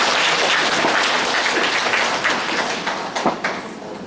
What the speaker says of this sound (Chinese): 那我们现在掌声欢迎杨胜显组长。